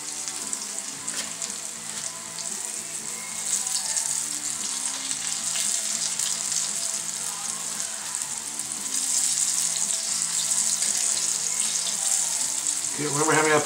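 Dusted chicken strips fry in hot lard, making a continuous close hissing sizzle that swells a little partway through, with a brief louder rush near the end and no talk.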